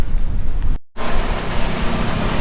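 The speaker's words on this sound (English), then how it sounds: "just steady heavy rain." Steady heavy rain pours down on an outdoor swap meet, a dense continuous hiss that fills the whole clip apart from a brief dropout near the start.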